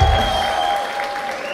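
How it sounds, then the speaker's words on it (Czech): Applause at a Czech high school graduation ball, a short burst of crowd clapping with a sustained tone running underneath, fairly loud and close. "zatleskejte Niky!"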